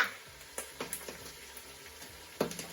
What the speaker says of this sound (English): We're going to fry the okra.